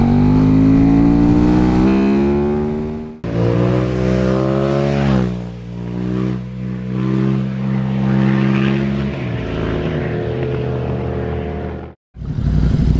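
A KTM Super Duke motorcycle accelerates hard, its loud, close engine rising in pitch through the gears with short breaks at each shift and a brief cut near the end before revving on.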